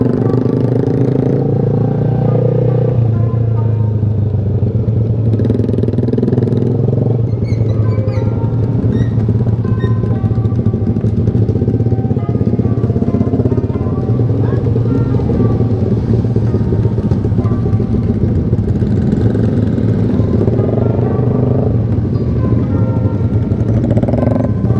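A steady engine rumble with road noise comes from a ride on a motorcycle on a long road trip toward Sawarna in Indonesia. The drone stays close and constant throughout, with little change in pitch.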